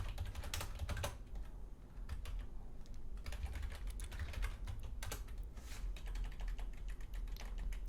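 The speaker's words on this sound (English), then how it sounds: "we enter into insert mode and we start typing" Computer keyboard typing while editing a file in Vim: a steady run of quick, close key clicks with brief pauses, no voices.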